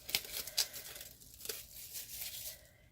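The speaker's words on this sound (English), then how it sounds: "there's a film on here to protect the box. You're going to peel that away" Protective plastic film peeled off a small paper treat box, giving a few quiet crinkling and tearing rustles at close range.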